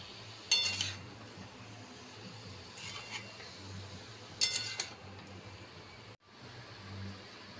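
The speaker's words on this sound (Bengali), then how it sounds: "একটু নাড়িয়ে দেব।" Fried potatoes stirred in a metal pot while cooking aloo dum, with a few sharp scraping clinks of the spoon against the pot over a low kitchen background hum.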